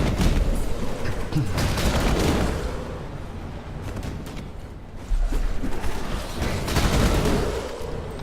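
Fire trap attacks in the video game Path of Exile: dense, continuous volleys of crackling blasts and booms that swell and ease over several seconds.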